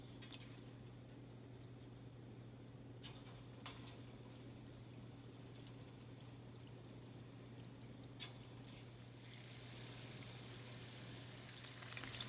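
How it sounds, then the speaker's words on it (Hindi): Okra fritters (bhindi pakora) fry in hot oil over medium heat, giving a faint, steady sizzling hiss with a low hum beneath and a few small pops. "इनको फ्राई कर लेते हैं।"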